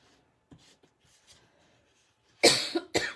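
Two sharp, close coughs break a quiet room with soft paper rustling, one harsh cough followed moments later by a shorter second one.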